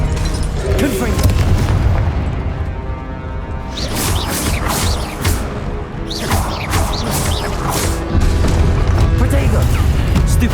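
Confringo blasting spells explode in Hogwarts Legacy combat, giving loud booming blasts and crashing impacts in close succession, with bursts of spell effects layered over a continuous battle din.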